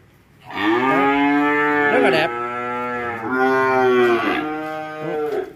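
Several cattle moo loudly and at length, close by, at a cattle farm where Brahman and French-breed cattle are sold, with a voice briefly speaking over the calls.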